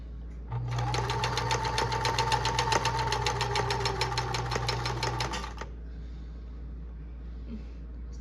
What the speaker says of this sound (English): Then you can press down to start sewing.